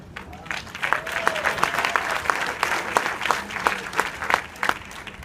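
An audience claps in sparse, uneven rhythm, with individual claps standing out from a moderate room full of people and faint murmuring beneath.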